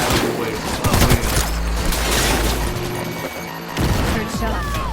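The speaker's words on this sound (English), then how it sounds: "Heard shots." Bursts of gunfire in Cyberpunk 2077, loud rapid shots in clusters near the start and again toward the end, with a voice speaking over parts of the firefight.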